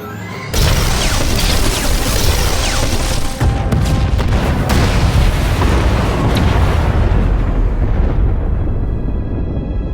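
Junctions blown up in Star Wars: The Old Republic set off a sudden loud, close blast, followed by a dense, rumbling wall of explosions and crashing debris that keeps roaring for several seconds before slowly thinning out.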